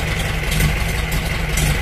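A Volkswagen Beetle with a 1300 engine and an open exhaust idles in a steady, burbling rumble, close and fairly loud, with no voices.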